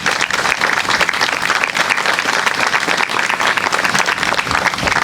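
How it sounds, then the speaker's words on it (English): Applause from an outdoor remembrance-day crowd in Crest Hill, steady and full for about five seconds, loud and close throughout. "please, I beg you to give them a round of applause for all their work today"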